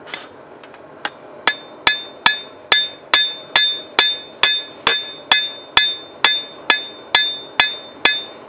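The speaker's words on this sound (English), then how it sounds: "For hammer technique, you can directionalize your blows by skipping them forward." Hammer blows on a steel knife blade during forging, a steady series of about eighteen sharp ringing metallic strikes with a bright resonant ring, evenly spaced roughly twice per second, close and loud with no talking.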